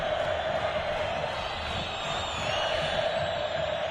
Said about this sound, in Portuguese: Só se ouve agora no estádio, claro, a torcida do Palmeiras